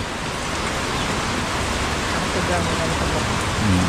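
Steady rain pours down on a rainy day over flooded rice fields, a dense continuous hiss at close range with a brief voice near the end.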